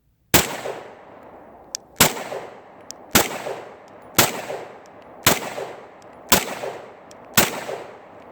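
Seven loud pistol shots from an XDm 3.8 Compact 9mm ring out at a steady pace about one per second, each sharp crack trailing into a short outdoor echo, with no speech between them.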